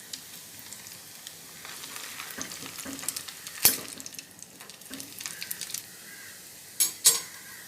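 Chicken fingers fry in oil with a quiet, continuous crackling sizzle, broken by a few sharp clinks of a utensil against the pan.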